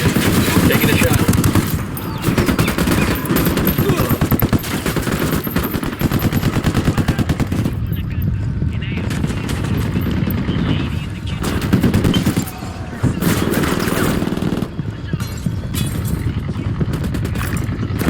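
Automatic gunfire in the video game Ghost Recon Wildlands rattles in long, dense bursts of rapid shots, loud and close, with brief pauses between volleys and voices speaking over parts of it.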